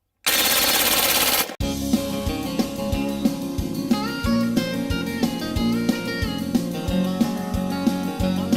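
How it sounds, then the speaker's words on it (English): Rapid full-auto rifle fire emptying a 20-round magazine of Lehigh Defense ammunition, a loud continuous burst lasting about a second and a half, followed by ringing tonal sound with steady rhythmic thumps. "I've got a 20-round mag. We're going to do a full auto dump."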